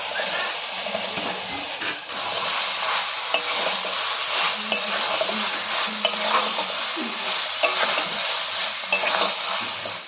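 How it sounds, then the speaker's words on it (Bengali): Fried potatoes being stirred through a spice paste in a pan for a fish curry, steady close scraping and stirring over a dense sizzle, with a few sharper utensil taps and no speech. "এবার এর মধ্যে ভেজে রাখা আলুগুলো দিয়ে আর একটু কষিয়ে নেব।"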